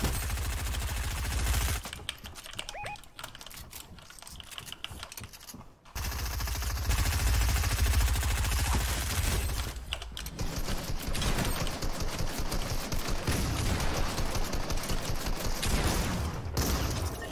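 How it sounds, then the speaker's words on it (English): Fortnite shooting on PC, with dense rapid gunfire rattling in long bursts, loud and continuous apart from brief gaps, and no talk. "I missed every freaking shotgun shot"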